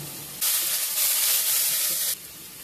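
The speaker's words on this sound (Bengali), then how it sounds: "এবার এর মধ্যে দিয়ে দিচ্ছি আদা, জিরে, মরিচ যেগুলো করা ছিল বাটা" Onions, ginger, cumin and chili paste hit hot oil with a sudden loud, steady frying sizzle that holds for nearly two seconds, then eases back to a softer hiss.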